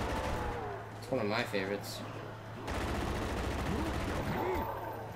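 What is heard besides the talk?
gunfire from a gun in the video game Call of Duty Zombies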